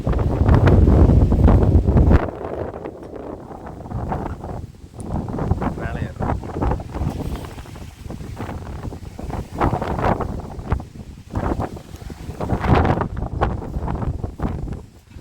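Strong wind buffets the microphone in loud, roaring gusts, heaviest at the start, with a voice talking intermittently underneath, beside a road through Sathyamangalam tiger reserve forest.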